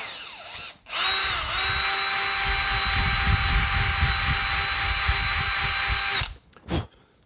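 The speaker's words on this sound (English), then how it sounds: "So from the bottom, just turn the drill slowly and it'll break through." A power drill bores up through the rubber passenger floorboard mat of a 2018+ Honda Goldwing, spinning up to a loud, steady high whine held for about five seconds before winding down, with a short burst at the end.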